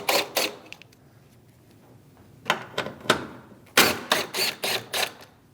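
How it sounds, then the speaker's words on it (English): Bolts being removed from the front fascia of a 2016-2025 Chevrolet Malibu 1.5L: bursts of sharp mechanical clicking and ratcheting come in two clusters, close and fairly loud, with quiet gaps between. "Continue down the front, removing the bolts."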